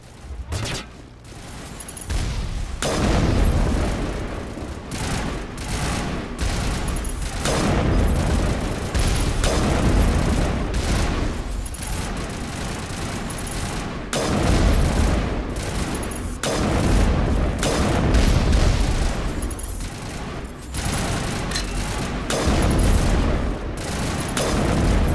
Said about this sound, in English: Let's activate the turrets.